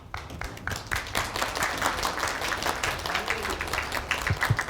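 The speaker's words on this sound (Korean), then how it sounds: "우리 다시 한번 뜨거운 박수 부탁드리고" A student audience at a university finance and economics seminar lecture bursts into dense, sustained applause, a continuous wash of many clapping hands throughout.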